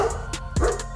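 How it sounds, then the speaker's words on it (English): A German Shepherd gives a short bark, a single close yip-like woof in the middle of a brief moment, loud against a quiet background. "12. German Shepherd."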